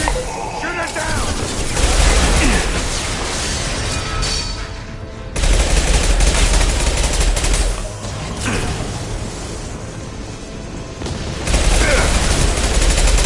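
Gunfire in Mass Effect Legendary Edition during a firefight: sustained, dense rattling bursts over a heavy low rumble, rising and falling in waves, with voices mixed into the din.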